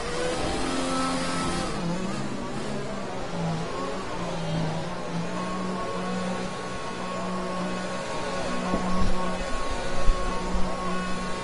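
An F1 2020 race car in the video game accelerates steadily, its engine whine holding a high sustained pitch and climbing through gears over a continuous loud drone, with a busier stretch near the end.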